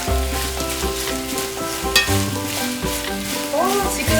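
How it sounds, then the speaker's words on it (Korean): Mushrooms with fried shiitake sizzle and crackle in a hot pan while being stirred, with a few scraping clinks from a utensil, close up. "볶아지는 소리"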